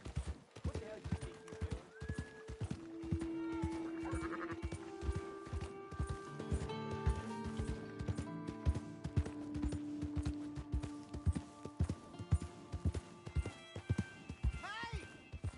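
Horse hooves clip-clopping steadily with a whinny in Red Dead Redemption 2, mixed with game music and voices talking over the scene.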